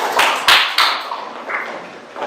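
Applause from a classroom of students for a presenting group, a few loud sharp claps at first, then a thinning, uneven patter that fades out.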